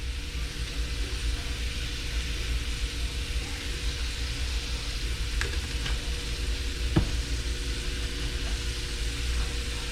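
Shrimp stir-frying in a pan with seasoning gives a steady, even sizzle that runs the whole time, with a few faint clinks and light stirring over a low background hum.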